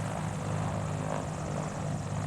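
Gee Bee R3 racing plane in Microsoft Flight Simulator, its engine idling steadily around 1,000 RPM for taxi, a continuous low droning hum with a deep throb, alone and fairly loud throughout.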